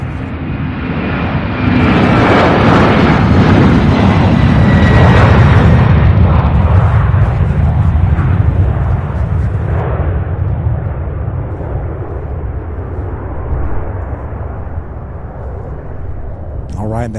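A UPS Airbus A300 cargo jet takes off with a loud, roaring thunder of engines that swells early, holds and then slowly fades as it climbs away, a voice talking over it at times.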